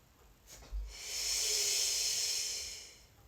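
A slow, steady breath drawn in during a yoga exercise, a soft airy hiss that swells over about two seconds and fades, preceded by a brief thump, close and quiet with no talking.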